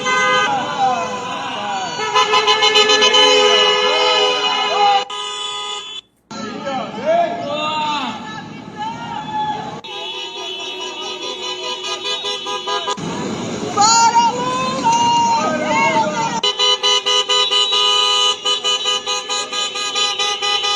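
Repeated car horns honking loudly in long blasts and short toots at a street protest in Brazil, mixed with street traffic and crowd noise, nearly continuous.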